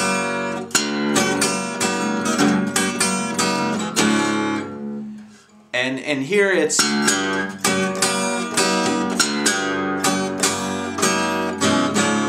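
Blues guitar rings out in an instrumental break sitting on the four chord, with steady plucked rhythm, a brief pause, then strumming resuming loud and close; a voice speaks a few words at the start.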